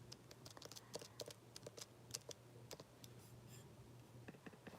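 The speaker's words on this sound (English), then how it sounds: "Typing sounds on my computer." Quiet, irregular taps and clicks of fingers typing on a computer keyboard, close-up and soft, with short bursts and brief pauses over a low background hum.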